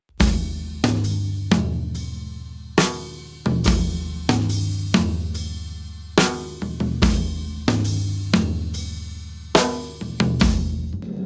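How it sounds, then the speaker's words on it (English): A drum kit plays a steady rock pattern with punchy kick and snare under a splashed hi-hat that opens into bright, sizzling washes, loud and close with no talking. "Okay, now we'll put in the splashed hi-hat and notice how much that does for us."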